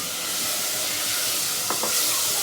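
Chopped onion sizzling in hot oil in a home kitchen pan, a steady close frying hiss throughout with a brief stir or clink near the end.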